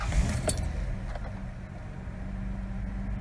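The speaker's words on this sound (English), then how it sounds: "So I'm going to start the car up." A car in an auto shop class is started with its key: a brief jingle of keys and a starter click, then a steady low engine idle hums on at moderate volume.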